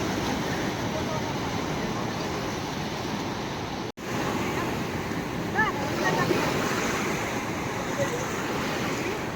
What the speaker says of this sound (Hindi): finally we are enjoying the sea water here